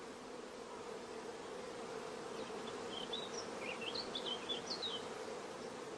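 Honey bees in a starter colony hum in a steady, even drone close by, with faint bird chirps in the background and no voices.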